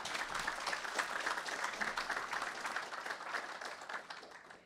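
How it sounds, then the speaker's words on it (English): Audience at a Linux kernel engineering talk at the HOPE hacker conference applauds steadily, a dense wash of many hands clapping throughout, close and sustained with a slight fade near the end. "Give him another round of applause, please."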